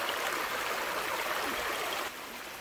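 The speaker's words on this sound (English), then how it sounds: "it's not even waterfall, it's just a bit of a trickle really" Water trickles and splashes over mossy rocks at a small outdoor waterfall near Entwistle, a steady hissing rush heard close up that drops slightly in level near the end.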